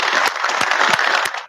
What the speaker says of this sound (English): Let's give Ricky a round of applause.